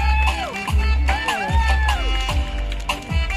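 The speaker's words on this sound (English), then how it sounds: "please give a big round of applause for our winners" A crowd claps and cheers for half marathon winners at a prize ceremony, steady applause beneath a loud amplified announcer's voice.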